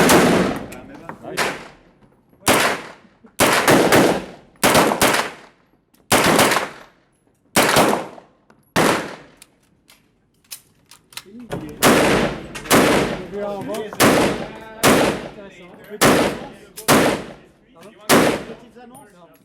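Rifles fire at an indoor shooting range, loud close shots and rapid bursts ringing off the walls in an irregular rhythm through the clip, with people talking between shots.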